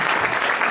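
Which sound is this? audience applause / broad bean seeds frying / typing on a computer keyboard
audience applause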